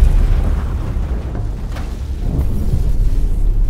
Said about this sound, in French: l'une des plus grosses plateformes pétrolières au monde explose soudainement